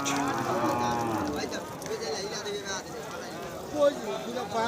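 A cow at a cattle market in Thakurgaon, Bangladesh, gives a loud, close, drawn-out moo lasting a few seconds while market chatter and voices continue around it.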